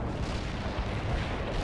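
Artillery fire in the video game World in Conflict, heard as a continuous low rumble of distant booms and blasts blending into a dense roar with no distinct individual impacts.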